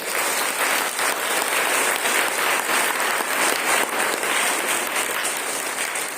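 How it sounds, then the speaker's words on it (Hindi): A church congregation at a mission gathering in Malbazar, Jalpaiguri, West Bengal, claps loudly and steadily. The dense applause fills the room without pause for about six seconds. "जोर से ताली बजाइए ईश्वर के लिए।"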